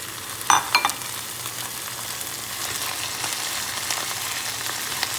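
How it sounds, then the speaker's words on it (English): Diced beef sautéing in a pan with garlic, a continuous close sizzle with a few sharp clinks and stirring scrapes early on, no voices. "Now we can put our diced beef"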